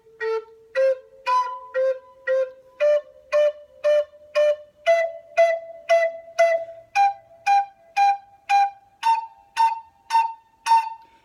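Native American flute plays single-tongued notes, four crisp repeated articulations on each step of a pentatonic scale climbing upward, clear and close with no voice.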